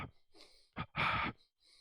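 A double-exhale breathing exercise: two short, breathy puffs of air, the second louder and longer, close to the microphone with no talking.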